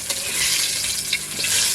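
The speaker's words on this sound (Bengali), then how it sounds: "কি সুন্দর লাল লাল হয়েছে মাছটা ভাজা" Pieces of kalbaush fish fry in hot oil in a kadai, giving a steady, hissing sizzle broken by the scrape of a spatula lifting and turning them.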